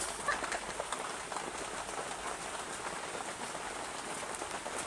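Steady rain falls outdoors as a dense, even hiss of drops on surfaces, continuous and moderately loud with no break throughout.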